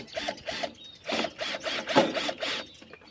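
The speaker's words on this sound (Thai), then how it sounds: "พี่กดยิงอันนี้ให้จบเลยครับ ยิงตัวด้าเนี้ยครับ" A staple gun fastens wire mesh to a dog cage in a quick series of mechanical clicks and ratcheting snaps, about eight bursts, fairly close and quiet.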